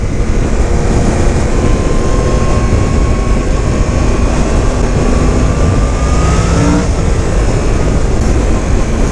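A 2017 Yamaha FZ-10 motorcycle engine drones loud and steady at low throttle in B mode, with a rising tone that climbs as the bike accelerates, heard alone without talking.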